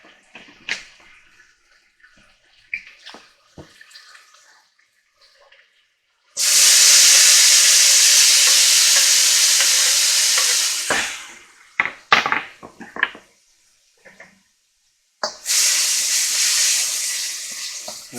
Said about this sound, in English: this is my wok. As you can see, I got it up on high.